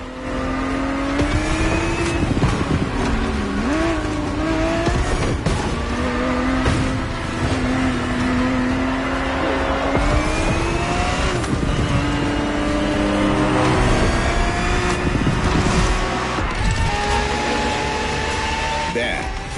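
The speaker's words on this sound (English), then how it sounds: "The Ferrari 365 GTB4 is the perfect vehicle for you to experience Ferrari racing as it felt back in the 70s" A Ferrari 365 GTB4 racing engine in The Crew Motorfest revs and shifts through gears, pitch climbing and dropping in repeated sweeps, loud and close, with a voice talking over it.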